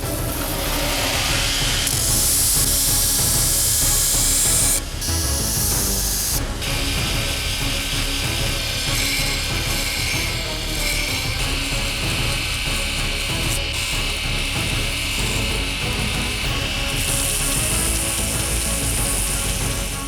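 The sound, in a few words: grinding the bevels of a steel dagger blade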